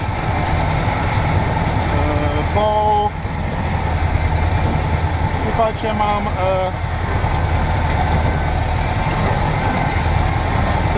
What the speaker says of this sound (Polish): ten ciągnik, to wiadomo, że nie jest taki jak pozostałe, troszkę hałasuje